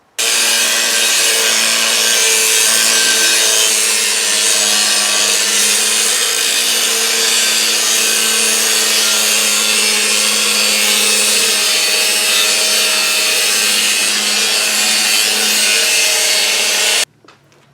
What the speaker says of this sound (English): I'll be starting with 7-inch angle grinder.